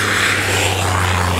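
A propeller airplane's engine drones loud and close in a steady, unbroken roar that fills the whole moment, with no voices.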